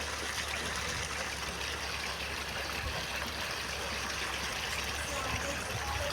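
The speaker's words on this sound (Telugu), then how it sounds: "అదిగోండి అలా టిన్నెలతో పట్టుకొని వేయాలి తడి." Water poured from tins onto a seedbed gives a soft, steady trickling and splashing that runs continuously at low level, with faint background noise.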